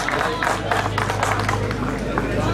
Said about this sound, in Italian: Bello sentire questi applausi, soprattutto spontanei, bravi.